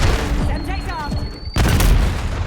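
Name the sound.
Semtex grenade explosion in a video game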